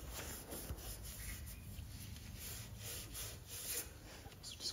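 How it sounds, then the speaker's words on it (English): An old Scotch-Brite pad scrubs grime off a metal boat trailer part, a steady close abrasive rubbing with repeated back-and-forth strokes, continuous over a low background rumble. "I'll go and get a old Scotch-Brite. That gets all the grime off it quite easily."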